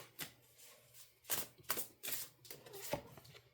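A deck of oracle cards being shuffled close by, quiet riffling bursts and soft slaps repeating in an uneven rhythm, with no voices.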